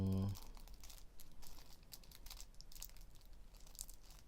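Crinkling plastic wrapper of a One Piece playing card pack being opened, close and continuous crackling and tearing over several seconds, starting right after a short burst of speech.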